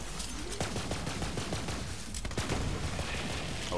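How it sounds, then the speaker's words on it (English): Rapid submachine gun fire in a shooter game, quick crackling shots stacked in steady bursts, moderately close amid ongoing battle noise. "I like this submachine gun."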